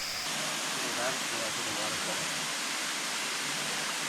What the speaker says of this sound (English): I can see the waterfall up there.